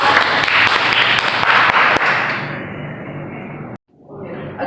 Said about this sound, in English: Please give applause for Faiza